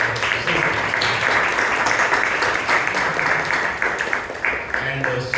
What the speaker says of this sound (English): Give a big round of applause for those who were